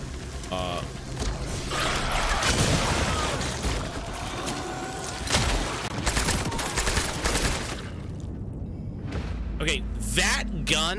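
Elephant rifle gunshots in the video game Cronos: The New Dawn, a series of loud, sharp blasts among heavy game effects and clatter, with someone talking over the action.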